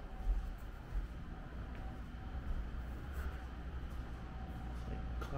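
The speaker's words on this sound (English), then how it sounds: "It's like a classic train station." Low rumbling train noise fills a station, with a steady mechanical drone and occasional clanks, a train passing at moderate distance.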